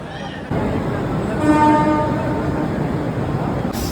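A commuter train at CSMT station in Mumbai fills the scene with steady rumbling rail noise, and a horn toots partway through. The station ambience is loud, and there is crowd murmur in the background.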